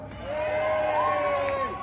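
A cosplay competition audience cheers and whoops in a large hall, a loud sustained crowd roar with a rising shout near the middle, lasting the whole moment.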